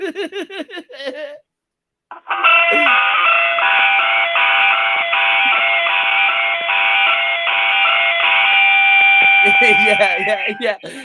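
A voice imitates a car alarm with a loud, sustained, wavering electronic-style tone lasting several seconds, framed by brief laughter and talk before and after.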